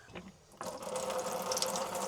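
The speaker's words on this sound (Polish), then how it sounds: "leci ta zimna woda, bo leci, ale słabe ciśnienie jest" Cold water runs from a mixer tap into a caravan sink, starting with a sudden gush after a quiet moment and then continuing as a steady, fairly soft splashing stream.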